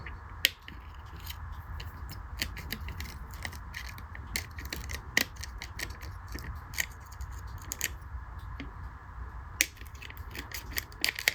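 Dull X-Acto blade cutting through pickup-making material for a bass guitar, a faint series of irregular sharp clicks and scrapes over a low background rumble.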